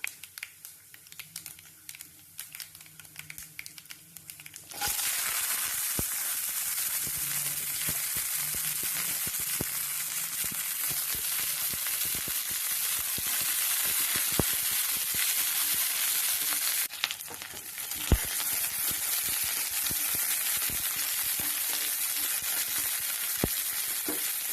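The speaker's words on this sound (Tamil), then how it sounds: "கடுகு பொரிஞ்ச உடனே வெங்காயம், பூண்டு, கருவேப்பிலை, வரமிளகாய்" Onion, garlic, curry leaves and dried red chilies hit hot oil after mustard seeds splutter, bursting into a loud, steady sizzle a few seconds in that holds strong with occasional crackles and stirring scrapes, no voices.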